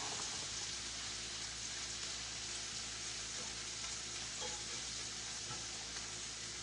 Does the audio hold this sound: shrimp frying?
yes